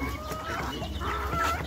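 Hens clucking close by at a poultry stop in Africa, a continuous run of soft clucks and short calls from several birds.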